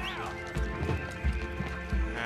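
Horse hooves clip-clopping in Red Dead Redemption 2 during a street battle in Saint Denis, giving dull, rhythmic thuds under a busy bed of voices and game noise.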